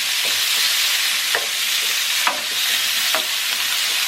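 Garlic, onion and chorizo fry in a pan with a steady close hiss, broken by a few sharp scrapes of a spoon stirring at intervals; no voices.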